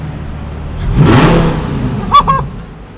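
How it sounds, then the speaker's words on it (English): Lamborghini Gallardo in manual mode revving inside a garage, a loud engine roar swelling once and then two short sharp blips near the end, close and alone. "This car is really loud."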